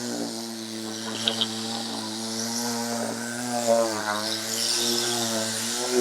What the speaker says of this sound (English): we're going to start sanding this part of the threshold over here